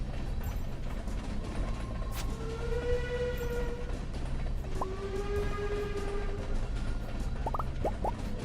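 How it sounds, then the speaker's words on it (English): In the farming game Stardew Valley, a passing train keeps up a constant mechanical rumble with drawn-out whistle-like tones and a few short clanks near the end. "I managed to catch a train passing through"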